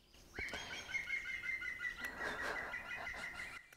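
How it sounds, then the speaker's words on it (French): Birds chirp and trill outdoors in spring, one steady high song running across the stretch with scattered tweets and faint flutters, moderately distant and with no speech. "Ah, les oiseaux sont vraiment de sortie."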